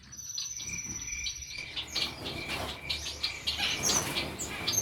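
Pet birds in an outdoor winter aviary chirp and tweet in a continuous busy chorus of small high calls, moderately close, with no talking.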